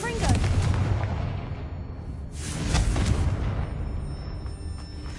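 Confringo spell blasts go off in Hogwarts Legacy, a booming explosive burst at the start followed by a second heavy blast midway, each trailing a rumbling roar, loud and close.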